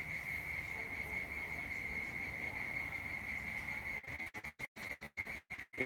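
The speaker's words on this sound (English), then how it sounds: "Hear the crickets doing their job." Crickets chirp steadily through a summer evening, a continuous high trill that holds even and moderately loud from start to finish, with the background thinning out near the end.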